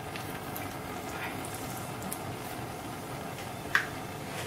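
Mustard seeds hit hot coconut oil while tempering for a pulissery, producing a steady, faint, even sizzle that runs throughout, with one sharp pop near the end.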